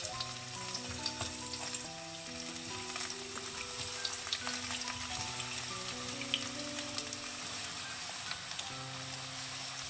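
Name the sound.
sliced radish frying in hot oil with sesame oil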